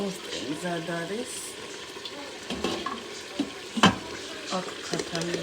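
Chicken simmering in a pan with added water and tomato, a faint soft bubbling with light stirring and scraping, and a brief voice in the background.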